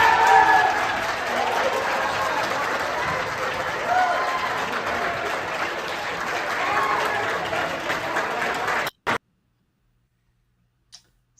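Republican lawmakers in the Arizona legislative chamber burst into sustained applause and cheering, a dense, steady roar of clapping lasting several seconds before cutting off abruptly into silence.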